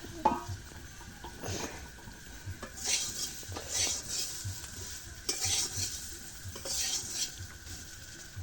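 Vegetable bhaji frying in a pan while a utensil stirs and scrapes against the metal, soft sizzling under repeated clinks and scraping strokes.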